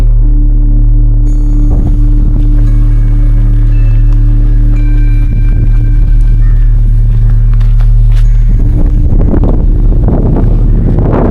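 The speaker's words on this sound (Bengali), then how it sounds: "আপনারা আওয়াজ শুনে বুঝতে পারছেন যে কীরকম হাওয়া চলছে" Strong wind buffets the microphone in a continuous low roar among granite boulders at Mahabalipuram, with a steady engine-like hum underneath and gusts swelling toward the end.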